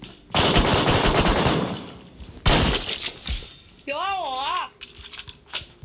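Gunfire including a shotgun in a video game, two loud bursts of rapid shots with crashing impacts, followed by a warbling electronic sound effect and a few lighter pops.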